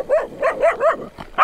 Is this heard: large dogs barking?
yes